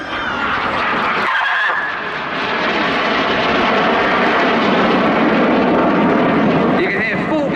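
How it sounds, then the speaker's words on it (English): Red Arrows jets at a Cleethorpes Armed Forces Day display roar at full power on their Rolls-Royce engines, a loud, sustained broadband roar overhead that barely dips, while an announcer speaks over the noise. "You can hear full power on those Rolls-Royce engines now."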